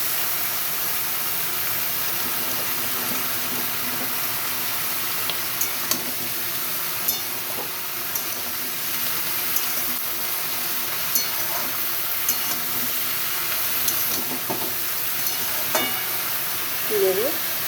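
Eggplant and green chili fry in a pan with a soft continuous sizzle and hiss, broken by occasional light clinks of stirring, fairly faint and with no speech.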